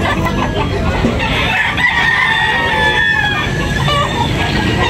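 A rooster crows loudly and close, a long drawn-out call, with clucking and other fowl noises around it, at a rooster sale in Tabunok, Talisay.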